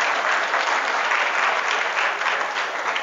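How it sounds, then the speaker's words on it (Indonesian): School students applaud at an Isra' Mi'raj lecture, a dense, steady burst of many hands clapping together, loud and continuous for a few seconds with no voices over it. "Tepuk tangan"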